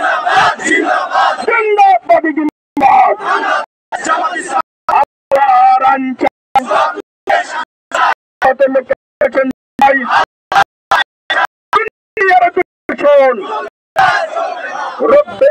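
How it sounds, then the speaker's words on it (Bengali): A crowd at a political rally chants the Naraye Takbir slogan, loud rhythmic shouted bursts in call-and-response with short pauses between phrases, voices strong and close. "আমার সাথে সবাই স্লোগান ধরবেন, নারায়ে"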